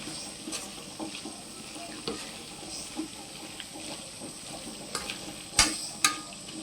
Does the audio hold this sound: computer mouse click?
no